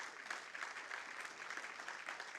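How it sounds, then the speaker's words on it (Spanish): A church congregation claps steadily after a pastor's call to praise the Lord, a dense, even patter of many hands heard from some distance, with no speech over it. "¿Cuántos dan un fuerte aplauso al Señor por eso?"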